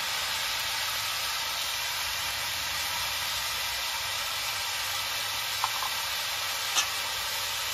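Ash gourd fries in a pan with salt and turmeric, giving a steady, continuous sizzling hiss with a couple of faint stirring clicks.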